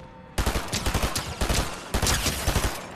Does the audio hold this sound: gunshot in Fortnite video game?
yes